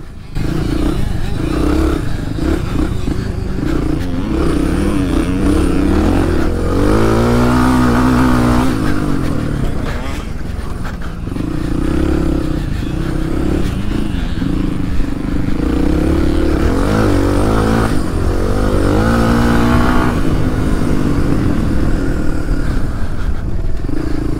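A Suzuki DR 350 trail motorcycle racing flat out in a cross and enduro event: a loud, continuous close engine roar that rises and falls with throttle and gear changes, no talk over it.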